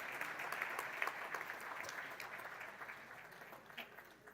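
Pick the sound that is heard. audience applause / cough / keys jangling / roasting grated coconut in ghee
audience applause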